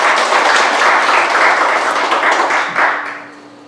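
A church congregation applauds to welcome a missionary to the pulpit: steady, dense clapping from a crowd that holds strong for about three seconds, then tapers away.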